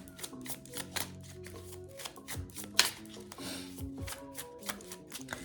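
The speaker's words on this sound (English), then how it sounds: "Shuffling for Capricorn." A deck of tarot cards is shuffled by hand in a series of crisp riffling bursts and soft slaps, close up and fairly quiet, over soft background music.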